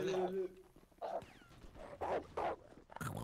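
A dog in a video game lets out several short growling, yipping bursts with pauses between them, fairly close and moderately loud.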